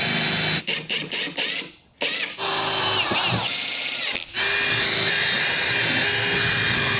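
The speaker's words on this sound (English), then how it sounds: "So I'll just drill my first hole here, which is 3/4 of an inch in." Power drill bores a hole into a desk top, a loud close whine that starts and stops in short bursts, then runs steadily after a brief pause.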